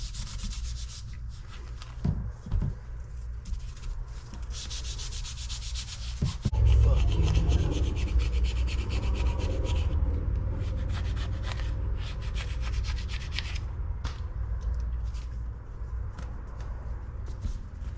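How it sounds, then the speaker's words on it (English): Hand sanding an old, heavily worn Enfield rifle stock with sandpaper, steady close rasping strokes that grow louder and rougher midway, with a few knocks early on. "Okay, and sandpaper time."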